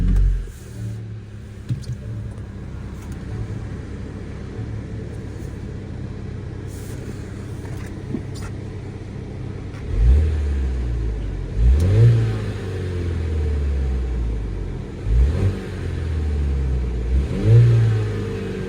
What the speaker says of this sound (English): So your engine start-stop is a little switch down here in the middle of the dash. Let's go ahead and fire it up.